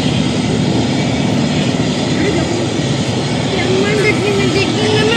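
Three aircraft sit with engines running before takeoff at a crowded airstrip during the Vice President's visit to Khetri, giving off a loud, steady droning roar, and a voice can be heard talking over it.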